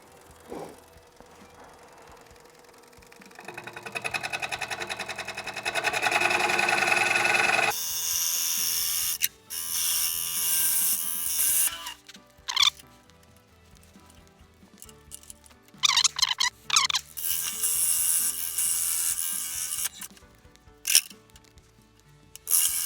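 A wood lathe turning a large chunk of silver maple, brought up to about 600 RPM, a faint spin-up giving way to loud, uneven scraping and rattling bursts from the spinning wood, close and with no talk.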